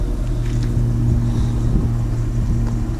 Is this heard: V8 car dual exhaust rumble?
yes